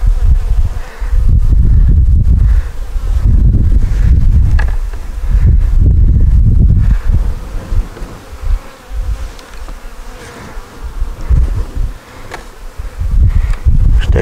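Honeybees swarm around a beehive super frame outdoors, a dense, loud, continuous buzzing close to the microphone, with wind buffeting at times.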